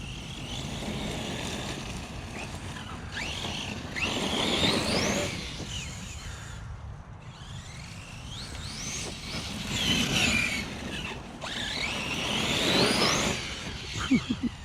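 A Force RC Epidemic 6S radio-controlled car bashing around a park and spinning in tight turns, its electric motor whine swelling and fading in repeated surges, with wind buffeting the microphone.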